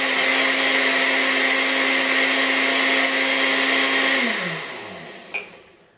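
Blender motor whirs loudly and steadily while whipping frozen strawberries into a smoothie, then winds down and stops, followed by a light knock at the end.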